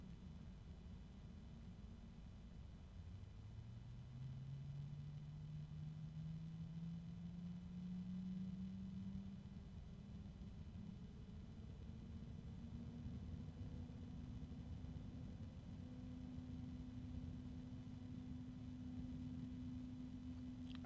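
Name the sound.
computer case fan running, with slight grinding, compared to Noctua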